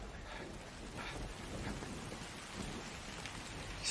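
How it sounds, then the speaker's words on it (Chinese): Rain falls steadily outdoors, a soft, even wash of drops, fairly faint and continuous, with a low rumble underneath. "下雨了"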